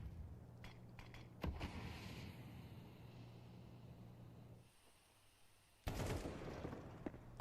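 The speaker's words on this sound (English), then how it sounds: "broky spots one out through underpass, the warning shot fired, incendiary dropped" Gunfire in a Counter-Strike match, with sharp shots and bursts over a steady bed of game noise, then a quieter gap and a loud burst near the end.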